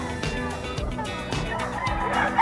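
A White Kelso gamecock rooster gives short clucks at a market pet stall, nearby and fairly loud, mixed with background voices and crowd noise.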